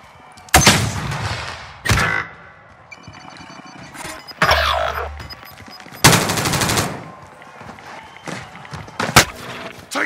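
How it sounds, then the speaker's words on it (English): Gunfire in Call of Duty: Modern Warfare battle royale, loud irregular bursts and single cracking shots scattered across the clip amid lighter game noise. "Taking fire over here."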